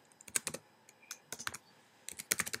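Fingers tap out a folder name on a Mac keyboard in short, quiet bursts of crisp key clicks with brief pauses between words, close up and with no voice.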